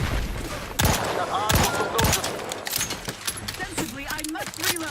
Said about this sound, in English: I think we're getting mortared over here.